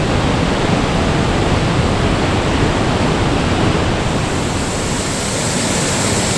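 Bidulginang waterfall, about 15 m high and swollen after heavy rain, pours in a loud, continuous broadband roar that stays steady and close throughout with no other sounds.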